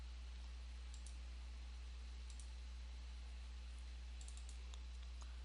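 Faint mouse clicks tick sporadically, a few single and double clicks, over a steady low hum of computer fan noise, close and quiet.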